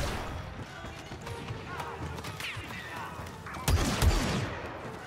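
Blaster gunfire in Star Wars Battlefront II, with steady rattling bursts and a louder cluster of shots near the end, over game noise and someone talking.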